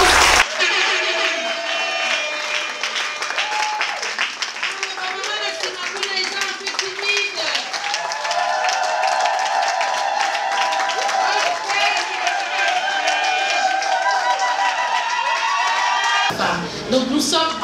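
An audience at a women's rights foundation event applauds loudly and steadily for about sixteen seconds, dense clapping with voices and cheering mixed in, then cuts off abruptly near the end.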